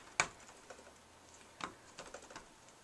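Soft, close tapping as a rubber stamp is dabbed onto an ink pad, one sharper tap followed by a few lighter irregular pats, quiet and without talk.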